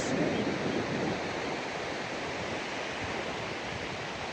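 Sea waves wash continuously onto the shore, a broad steady rushing surf without distinct breaks, moderately loud and heard alone.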